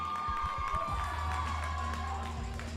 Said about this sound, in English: The team with the biggest crowd contingent making some noise